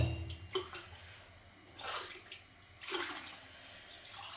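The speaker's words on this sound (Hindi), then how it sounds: "ये पानी जो है हम तब तक फिलहाल डाल ही देते हैं" Water being poured while preparing food offerings in a home kitchen, heard as several separate splashing pours, each swelling and fading, with no one talking.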